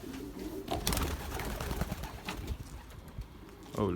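Belgian racing pigeons coo softly in their loft, with occasional wing flutters and rustling close by.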